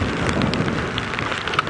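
Heavy rain sheeting down during an early-morning safari drive, a dense, loud, continuous hiss of falling water with scattered close drops striking surfaces, no voices.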